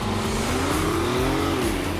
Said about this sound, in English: shift into sport mode, and the gas engine kicks in immediately